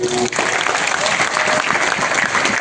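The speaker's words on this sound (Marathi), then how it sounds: "वाचकांच्या ह्या टाळ्या पारायण मंडळाच्या कार्यकर्त्यांच्यासाठी यात्रा कमिटीसाठी" A large crowd of readers at a Dnyaneshwari parayan during a village Mahaganpati fair claps loudly and steadily, the dense applause filling the whole moment.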